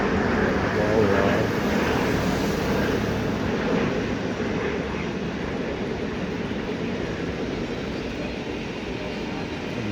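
An Etihad Airways Airbus A350-1000 from Abu Dhabi roars steadily near the runway at Delhi Airport, a loud broad jet rumble sustained throughout, with people talking over it.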